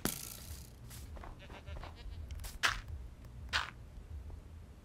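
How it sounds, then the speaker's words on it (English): A Minecraft goat bleats in a few short nasal cries over quiet game ambience, with a couple of sharper calls standing out near the middle of the stretch. "There's a goat on top of a tree."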